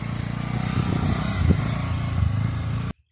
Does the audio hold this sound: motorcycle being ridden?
yes